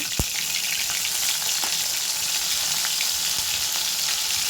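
Prawns frying in oil in a pan over a medium gas flame, a steady close hiss of sizzling with occasional crackles and pops, no voices.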